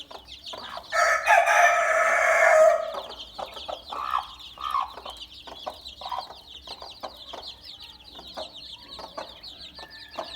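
Native hens and newly hatched chicks in a farm cage cluck and call close by, with a loud burst of squawking early on followed by continual softer clucks and peeps.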